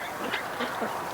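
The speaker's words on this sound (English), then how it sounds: "we've got some duck action at the tub." Wintering ducks quack at a water tub outdoors, several short nasal calls coming in quick irregular succession, fairly close and loud over steady background noise.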